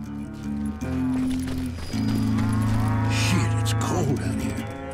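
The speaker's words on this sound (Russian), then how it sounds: "Здравствуйте, коровушки." Cattle in Call of Juarez: Gunslinger give long, low, overlapping moos, loud and close, joined partway through by a second bellow, with faint hoof and farm-animal movement underneath.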